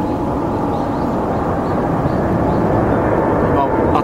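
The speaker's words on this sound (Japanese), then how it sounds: "飛行機がですね、" An airplane passes directly overhead, a loud, steady broadband roar that holds for the full four seconds, with muffled voices underneath.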